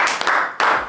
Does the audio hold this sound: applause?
yes